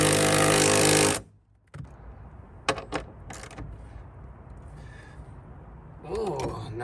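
A power tool removes the last bolt from a 5th-gen 4Runner's third-row seat: a loud buzzing burst of about a second, then several short ratchety bursts and clanks in a quiet garage, with a voice near the end.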